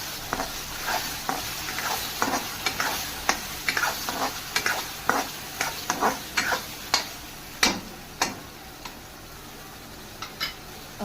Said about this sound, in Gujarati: હવે હું આને હલાવી લઈશ.